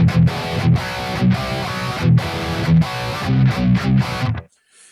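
Epiphone Les Paul Special VE electric guitar played through a Bias amp plugin with reverb switched off, giving a dry, distorted tone in rhythmic chord strums that stop abruptly near the end.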